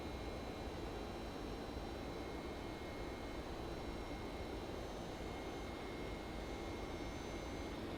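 Steady, broadband engine drone of a Boeing 767-300 in the X-Plane 10 flight simulator, a constant loud whoosh with faint tonal whine, unchanging for the whole stretch with no voices.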